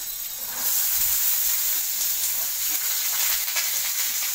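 Onion added to hot oil with popped mustard seeds, chana dal and urad dal for millet kuzhi paniyaram batter, giving a sudden loud, steady hiss that holds close and constant, no voices.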